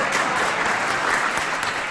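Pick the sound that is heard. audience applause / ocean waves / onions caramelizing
audience applause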